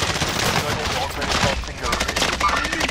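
Rapid automatic gunfire in Call of Duty Modern Warfare Warzone, a dense dry rattle that runs nearly continuously for about three seconds with a few brief gaps, loud and close.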